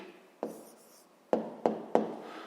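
Pen or marker strokes on paper while an answer is written out by hand for a rectangle-area math exercise: four sharp taps, one followed by a short scratchy stroke, then three quick taps near the end, close and fairly quiet.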